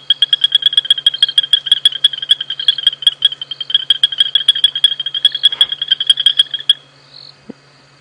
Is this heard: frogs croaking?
yes